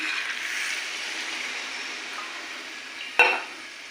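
Water poured into a hot pan of well-fried potato curry, with a steady frying hiss and then a sudden sharp splash and burst of sizzling near the end.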